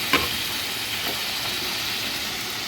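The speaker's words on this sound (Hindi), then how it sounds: "तो इसको हम इसी तरह एक एक करके डाल के और अच्छे से फ्राई करके निकाल लेंगे" Neevaj, small puri-like fried breads for Vat Savitri puja, fry in hot oil, giving a steady close sizzle and bubbling hiss that stays even throughout, with a brief clink near the start and no voices.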